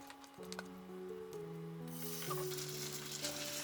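A soft, steady sizzle of sausage potato pancake batter frying in hot oil, rising slightly louder partway through, with faint scraping and no talking.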